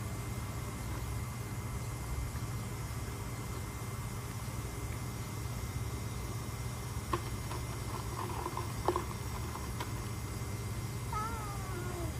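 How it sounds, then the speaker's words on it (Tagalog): A neighbor's cat meows a few faint, brief times at a distance, over a steady low hum of outdoor background noise, with no voices. "Yung pusa dito sa kapitbahay namin"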